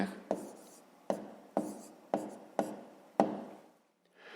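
Close, soft scratching of a pen writing on paper in a fifth-grade math lesson, six distinct strokes in a loose rhythm, then a brief pause and a faint final scrape.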